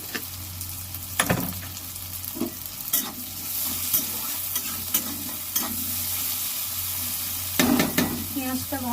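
Onions frying in a pan for a Bengali home-cooked meal, with steady faint sizzling and a few louder scraping stirs of a spatula at intervals; no talking.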